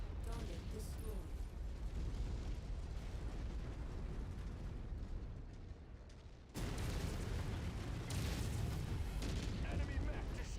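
A mech blows apart in a MechWarrior-style combat game: a sustained roaring rumble of blasts, then a sharp fresh burst of explosive noise partway through, with a voice speaking over the din.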